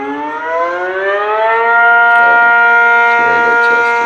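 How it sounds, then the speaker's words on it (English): A tornado siren wails and rises steadily in pitch as it winds up, then holds a loud sustained tone, with a few faint clunks beneath it and no talk. "That tornado siren sounds like it's on a plane or car or something"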